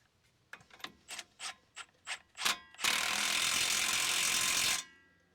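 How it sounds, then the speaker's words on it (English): A 3/8 impact wrench tightens a truck tie rod, starting with a run of short rapid ratcheting bursts and then one long continuous hammering whir before it stops. "I'm gonna ugga-dugga it down with a 3/8 impact"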